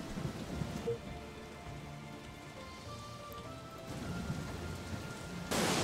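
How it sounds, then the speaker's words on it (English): Rain pours steadily in Townsmen – A Kingdom Rebuilt while a thunderstorm rolls over the settlement, with a soft hiss broken by a low distant rumble and a brighter crack near the end. "I don't need lightning to strike my stuff and kill it."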